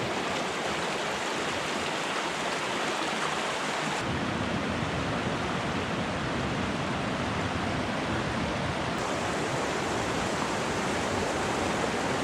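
The Swan River on the Colorado Trail flows as a continuous, even, full-band rush of water. It sounds close and constant, with no voices, and the tone thickens slightly a few seconds in.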